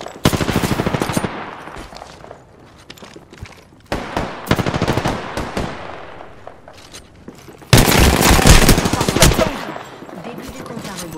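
Repeated loud shotgun blasts from the Eva-8 in Apex Legends ring out in bursts of rapid shots, with a final sustained volley, under occasional in-game voice callouts.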